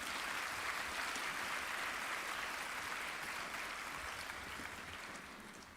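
A church congregation applauding during a sermon, sustained dense clapping that continues evenly and slowly eases off near the end, heard at a moderate distance without speech.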